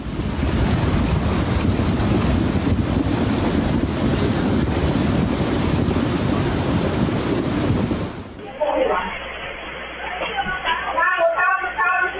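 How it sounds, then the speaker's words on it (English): Loud floodwater rushing down an Alpine river, carrying logs and debris, roars steadily, then drops away as a voice begins talking. "Powerful floodwaters rushed violently down from the Alps, dragging logs and debris through the river with unstoppable force."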